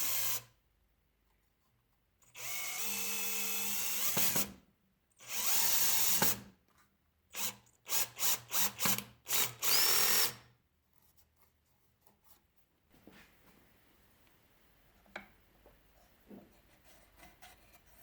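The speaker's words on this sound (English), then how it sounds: "I drilled pilot holes and secured the triangle with 2 screws." Drill boring pilot holes and driving screws into a wooden triangle for a Milwaukee band saw wall mount: two longer whirring runs, then a rapid series of short trigger bursts, followed by faint handling noises.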